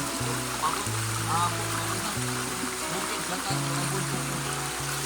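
The Luabon river flowing in rural Southern Leyte, Philippines, a continuous rushing water hiss heard beneath steady talking and tonal background sounds.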